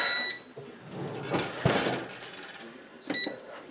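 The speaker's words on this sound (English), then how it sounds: "All right, the timer has gone off." An oven timer on a 350-degree oven baking scratch-made loaded mac and cheese beeps in two short bright bursts, one at the start and another near the end, with soft kitchen handling noises between.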